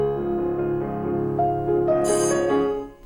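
A doorbell rings in a film scene inside a house, a bright high chime rising over sustained piano music and a child's play sounds, ringing briefly near the end.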